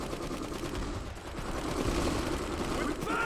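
Machine gun fire rattles in the real-time strategy game Iron Harvest, a dense, continuous burst of rapid gunfire layered over the battle din, with voices talking over it.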